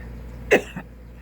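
A single sharp cough, close and fairly loud, followed by a smaller second burst, then quiet.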